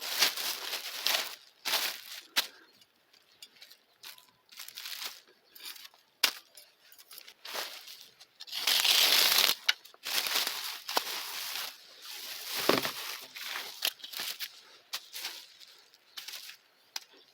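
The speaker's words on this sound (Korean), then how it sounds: "이 비닐만 깔아 놓으면" Plastic vinyl mulch film for a sweet potato garden bed, 600 wide, crinkles and rustles in irregular bursts as it is spread out by hand, with louder crumpling swells near the middle and end.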